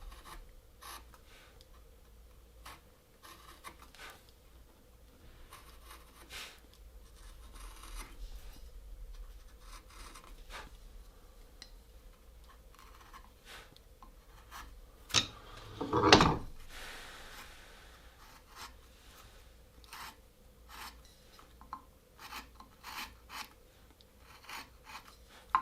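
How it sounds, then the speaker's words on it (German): A knife cuts across the grain of a wood carving, giving quiet scraping and rasping strokes through a mostly hushed stretch, with one louder, sharper cutting burst midway. "Wenn ich jetzt hier quer zur Faser schneide, man sieht, dass das hier ein bisschen ausbricht."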